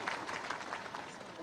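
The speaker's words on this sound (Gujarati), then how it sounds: "તાળી પાડો ભાઈ" Audience clapping at a minister's speech at a water conservation event in Surat, a steady patter of many hands heard faintly from a distance, with some voices mixed in.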